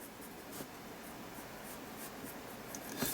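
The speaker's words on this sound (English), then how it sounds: "And then bring in that pencil again." A pencil is drawn steadily across paper in a soft, continuous scratching, close and quiet, with no talking.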